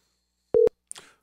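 A single short telephone busy-signal tone sounds while a call is placed, a flat steady beep lasting a fraction of a second, followed by a faint brief click and rustle in otherwise quiet surroundings.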